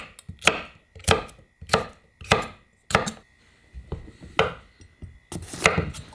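A kitchen knife chops bell pepper and cucumber on a cutting board, producing eight or so sharp, evenly spaced knocks about every two-thirds of a second, close and crisp with no talking.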